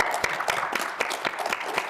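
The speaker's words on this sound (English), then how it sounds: "It's just a big applause to Jim" Applause at a panel discussion on wealth inequality: fairly faint, regular clapping with distinct evenly spaced beats, as though from a modest audience, and no talk over it.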